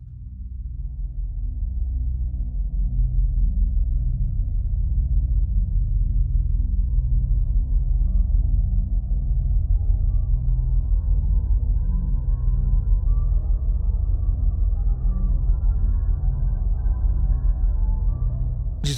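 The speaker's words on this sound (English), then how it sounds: "which gives you this much more like brooding, deep, rumbly pad sound." A synth pad pitched far down to D1 gives a deep, brooding, rumbly drone in a Silent Hill 2 style, rising softly and sustaining evenly on its own.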